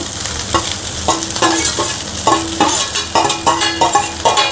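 Cooked rice stir-fried in a wide pan with curry leaves for fried rice: a steady sizzle under about eight regular, close spatula strokes scraping and tossing.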